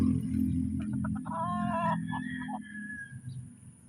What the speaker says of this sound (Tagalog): Pakagandang manok po, oh.